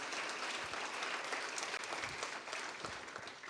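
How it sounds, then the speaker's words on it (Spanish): A church congregation gives sustained applause of gratitude, a dense wash of many hands clapping steadily, fairly faint and heard alone. "puedes darle un aplauso de gratitud al Señor por lo que hoy nos habla"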